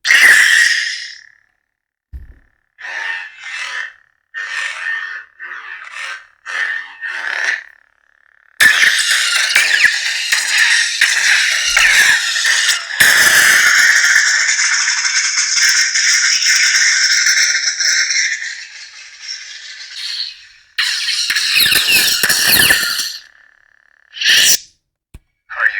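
Electronic hums and crackling swings from a Luke Skywalker Neopixel lightsaber with a CFX sound board burst in repeatedly, with sharp hissing clashes and short pauses between loud bursts.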